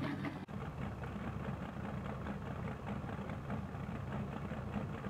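A loud, steady Gremlin car engine drone in a racing video game with a rough, throaty rumble, holding constant throughout after a brief click near the start.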